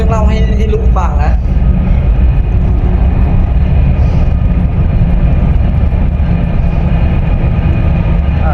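A Union Pacific train runs through a tunnel with a loud, continuous, heavy rumble and roar that fills the whole stretch, while people talk over it.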